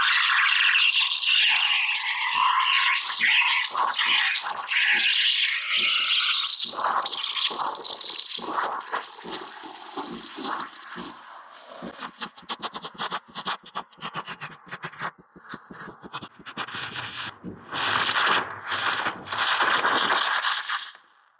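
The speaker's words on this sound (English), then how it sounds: "So now I want to froth some milk to put over my espresso." An espresso machine's steam wand froths milk up close: loud hissing and gurgling that breaks into sputtering bursts and squeals midway, then surges back to a steady hiss before cutting off.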